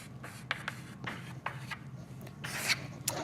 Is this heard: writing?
yes